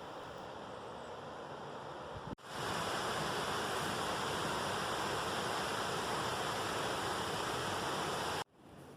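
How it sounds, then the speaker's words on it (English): Water rushes over a river weir in a city park, a loud, steady broadband roar heard up close with no voices. "Yet another weir looms ahead."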